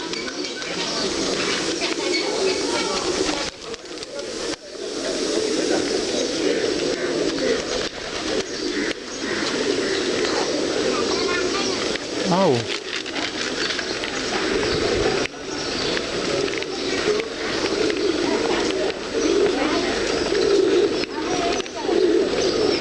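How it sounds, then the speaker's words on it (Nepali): A flock of pigeons feeding at Basantapur Durbar Square in Kathmandu, their low cooing mixed into a steady outdoor murmur, with a voice breaking in briefly. "परेवाको बथाना खाइरहेछन् नि अहिले"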